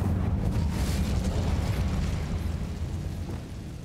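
Incendio fire spell bursting in Hogwarts Legacy, a loud, sustained roaring rumble that fades slightly toward the end, with no talk.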